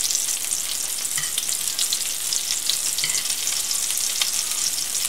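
Mallow fritters fry in a pan, giving a constant close crackling sizzle with fine popping bubbles and occasional soft stirring sounds, and no voices.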